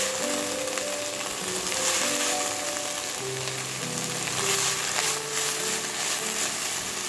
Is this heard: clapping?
no